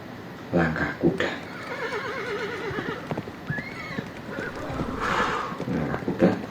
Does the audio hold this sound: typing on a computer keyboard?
no